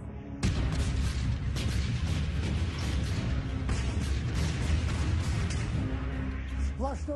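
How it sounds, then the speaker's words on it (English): Continuous heavy artillery booms and rapid gunfire from a battle reenactment of Kursk roll together into a dense, loud barrage that never lets up, with a voice faintly audible near the end. "constant shooting, constant explosions"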